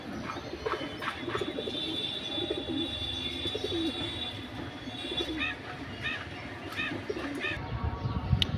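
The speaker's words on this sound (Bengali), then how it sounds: "এটা মাদি কবুতর," Soft cooing from a large female silver saddle racer pigeon, repeated low calls under a steady background hum, with some brief chirps and faint voices nearby.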